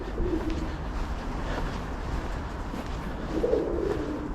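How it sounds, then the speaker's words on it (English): Pigeons coo softly along a canal, two low murmuring calls, one near the start and another near the end, over faint outdoor background noise. "pigeons."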